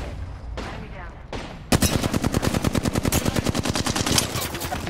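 Rapid automatic gunfire in the Apex Legends video game erupts after a quieter stretch of softer shots, then continues as a loud, steady burst of closely spaced rounds for several seconds.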